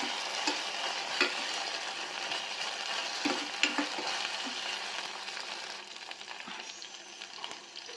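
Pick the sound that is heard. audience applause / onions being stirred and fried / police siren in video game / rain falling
onions being stirred and fried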